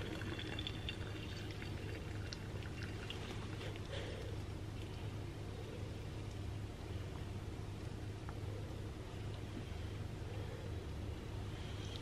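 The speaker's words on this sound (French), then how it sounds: "je verse l'eau bouillante" Boiling water is poured for an infusion, a steady, faint, continuous pour heard alone.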